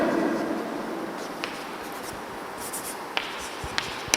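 Chalk or marker scratches across a board while chemistry structures are written, soft and continuous with a few sharper taps, and no one speaks.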